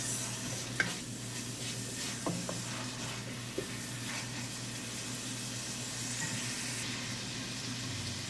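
Carrots and onion sizzle softly in a pan for a beef rice noodle soup, a steady low frying hiss with occasional spoon clinks and scrapes as they are stirred.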